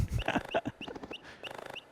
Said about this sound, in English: Let's make it a deeper bird.